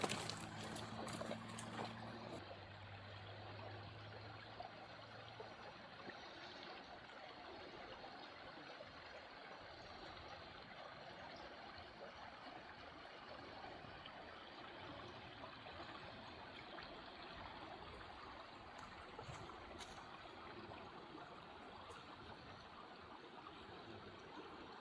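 Otter Creek flows along a trail edge, giving a faint, steady wash of trickling water that continues evenly throughout, with a brief low tonal sound at the very start.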